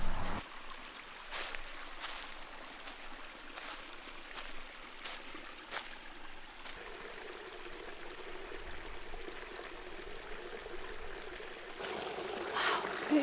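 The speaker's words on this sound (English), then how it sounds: "This brook had ice in it like 2 weeks ago." A brook flows steadily outdoors on a hot day, its soft broadband rush continuous and fairly close, with a few brief clicks and knocks and a slightly louder surge of water toward the end.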